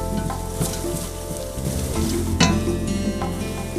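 Thai curry paste sizzles loudly in a pot for curry butternut soup, a steady frying hiss broken by the scrape and clatter of a spoon stirring it in.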